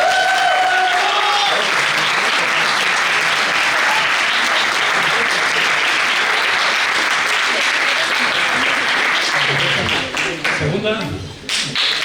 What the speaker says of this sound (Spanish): Aplausos para el primero.